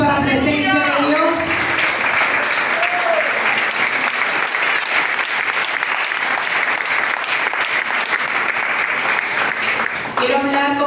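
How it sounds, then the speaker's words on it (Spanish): A church congress audience bursts into loud, dense applause for the presence of God, sustained steadily for about ten seconds, with voices heard briefly at the start and end. "denle un aplauso a la presencia de Dios"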